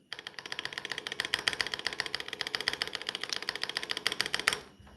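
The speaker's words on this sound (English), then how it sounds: "It's a mechanical keyboard that doesn't have loud keys. It sounds like a typewriter." Someone types fast on an Asus mechanical keyboard with quieter keys, giving a close, rapid, even stream of crisp clicks that runs for several seconds before stopping abruptly. There is no talk.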